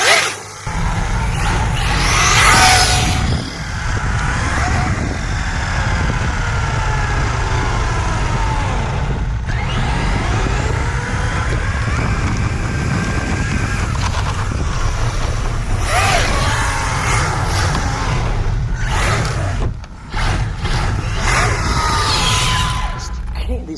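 Arrma Mojave RC car on street tires ripping off-road, a loud whining electric drivetrain that rises and falls in repeated bursts of acceleration, close by, with voices talking at times over it.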